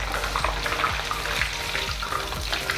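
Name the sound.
murukku snacks frying in hot oil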